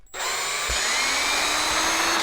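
A cordless power drill whirs steadily as it backs screws out of an Arrma RC car, including Big Rock and Typhon 6s models, during shop maintenance; one close, loud sustained whine after a quick start-up.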